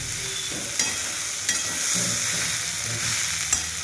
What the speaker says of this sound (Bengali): জলখাবারে আজকে মটর আলু দিয়ে ঘুগনি বানাচ্ছি